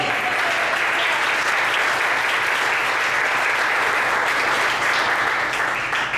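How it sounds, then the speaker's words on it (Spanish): Church congregation clapping together during a sermon, a dense, continuous wash of applause that is close and loud, holding steady for several seconds with no talking over it. "Denle un aplauso al Señor."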